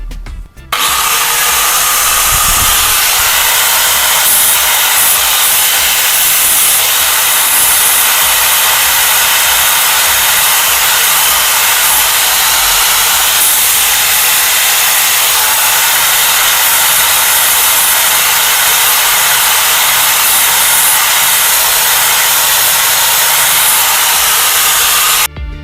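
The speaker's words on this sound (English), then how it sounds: "So let me grab my grinder and clean that up." Angle grinder scouring heavy rust off the tang of an old knife, a steady high-pitched whirring hiss running continuously and loud, with slight rubbing variations as the disc makes a few passes.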